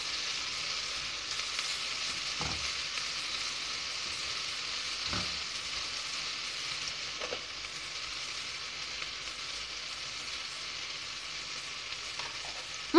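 Garlic cloves fry together with red lentils in a pan, giving a steady, even sizzle throughout with a few soft knocks of a utensil and no voices.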